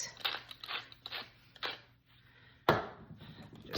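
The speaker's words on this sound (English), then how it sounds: "I'm going to give this a mix" Seasoned potatoes and onion being tossed and mixed in a bowl, a series of close, crisp crunching and rustling bursts in an irregular rhythm, with one sharper, louder knock near the end.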